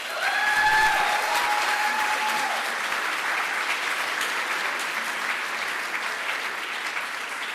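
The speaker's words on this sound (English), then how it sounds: "let's have one more round of applause for all the great work they do" Loud applause from an awards-ceremony audience fills the room as dense, even clapping, strongest at the start and easing off slightly toward the end, with a few faint voices under it.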